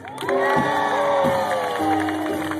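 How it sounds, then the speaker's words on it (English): Audience at a jazz concert clapping and cheering, a loud, sustained burst of applause with whoops and shouts rising over it, fairly close. "Ladies and gentlemen, a wonderful, wonderful round of applause"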